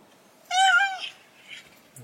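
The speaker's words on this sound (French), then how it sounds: "ce que vous entendez là, c'est le Foguito qui veut du thon" A cat gives one loud, drawn-out meow close by, followed by a softer trailing mew, then quiet.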